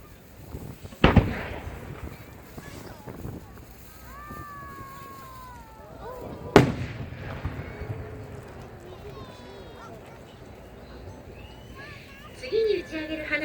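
Triple-layered blue fireworks shells from Yamazaki fireworks burst at a seaside display in Miyazaki, with two sharp, loud booms several seconds apart and crackling and whistling trails between them, over steady crowd noise and distant talk.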